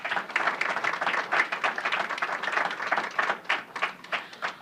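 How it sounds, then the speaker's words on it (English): An audience at a healthcare awards event applauds staff with sustained, vigorous clapping from many people, loud and even with rippling peaks, and no voices over it. "Please join me in applauding our graduate medical education"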